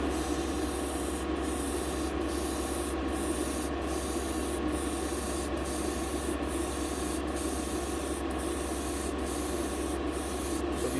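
Spray painting tint onto the glass of a model car: a soft, steady hiss of spray close by, with faint regular ticks recurring about every second throughout.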